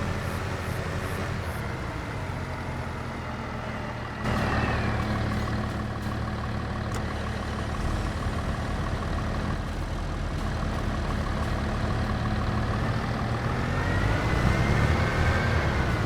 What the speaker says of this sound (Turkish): Tabii tarlada traktör çok zorlanıyor.